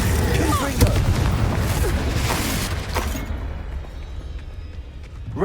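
Confringo fire spell blasting in the video game Hogwarts Legacy, loud booming impacts and crackling bursts over a dense game soundscape, fading into a quieter tail.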